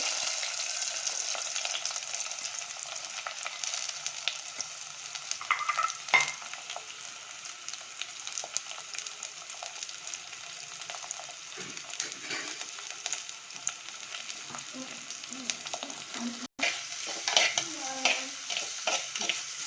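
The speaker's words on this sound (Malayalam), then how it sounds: "എണ്ണ ഒഴിച്ച് ഉള്ളി വഴറ്റിയെടുക്കുകയാണ് ആദ്യത്തെ സ്റ്റെപ്പ്" Steady, loud sizzling of shallots sautéing in oil, with occasional scraping and clinks as they are stirred in the pan throughout.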